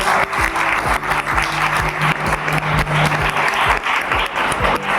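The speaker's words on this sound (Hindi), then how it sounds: "तो एक जोरदार ताली अपने आप की" Audience at a direct-selling business presentation breaks into loud, sustained applause, dense close hand clapping filling the room without pause, with faint low hum beneath.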